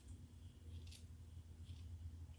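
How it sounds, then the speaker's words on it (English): Scissors cutting layers into halo hair extensions, a couple of soft, quick snips over a low steady hum, faint and close, with no talking. "So you would just take your scissors."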